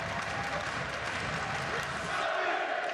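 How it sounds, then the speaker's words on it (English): A boxing arena crowd roars steadily behind Andrew Selby during the tenth round of his fight with Cristofer Rosales, a dense continuous wash of cheering with no clear breaks. "Crowd now getting behind Andrew Selby."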